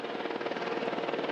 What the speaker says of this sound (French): La délégation se pose en hélicoptère sur le parvis des Invalides.